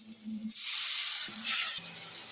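Water hits a hot pan of fried spices for rui fish kalia, giving a loud, sudden hiss and sizzle that holds for over a second and then cuts off.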